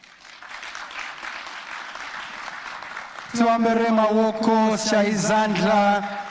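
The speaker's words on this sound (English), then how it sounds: "Big round of applause, ladies and gentlemen." An audience at a performance contracts signing and awards ceremony applauds in a crowded, even patter, then a loud amplified voice speaks over the fading claps.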